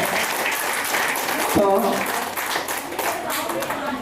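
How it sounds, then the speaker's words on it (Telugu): Audience applause at a school gathering with teachers: steady, crowded clapping that fills the room throughout, with a voice speaking over it. "వాళ్ళందరికీ ఒక్కసారి మన చప్పట్లతో ఒక్కసారి అందరూ కూడా చెప్పాల్సిందే"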